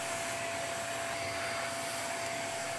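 A vacuum cleaner runs with a loud, steady whine and hiss, pulling ash off the parts of a Harman Accentra 52i pellet stove insert, unbroken and with no talk.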